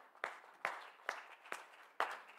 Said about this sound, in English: If you were here yesterday, I give you a hand clap of appreciation.